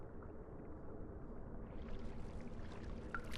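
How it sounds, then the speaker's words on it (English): Steady rushing rain and flowing water in the video game Rain World, a dense, continuous wash that swells and grows brighter partway through. "The water is coming. The rain."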